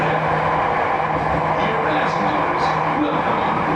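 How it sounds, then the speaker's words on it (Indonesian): Jakarta MRT train running through an underground tunnel, a steady dense rumble and roar heard from inside the carriage, continuous and fairly loud throughout. "Saat ini kita berada di dalam kereta yang masih berada"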